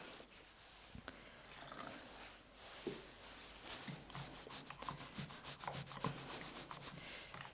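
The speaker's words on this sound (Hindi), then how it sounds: "थोड़ा थोड़ा पानी डाल के हमें इसका घोल बनाना है" Semolina batter being mixed as water is added bit by bit: soft, close rubbing and scraping strokes in an uneven rhythm, faint and without talking.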